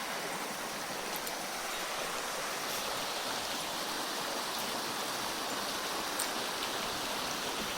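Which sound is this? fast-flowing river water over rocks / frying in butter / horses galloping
fast-flowing river water over rocks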